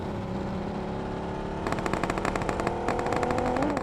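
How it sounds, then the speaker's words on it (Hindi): Rapid automatic gunfire in the battle royale video game PUBG bursts out in fast repeated volleys over a steady droning background, with two dense strings of shots, loud and close. "गोलियों की शोर की आवाज़ से पता लग रहा था कि आसपास बहुत सारे एनिमीज़ हैं"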